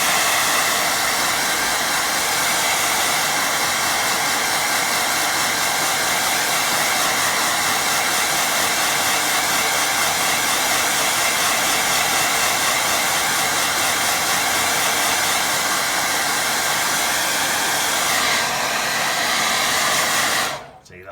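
A hair dryer blows steadily and loud over a watercolour painting for about twenty seconds, a constant broadband roar that cuts off abruptly at the end.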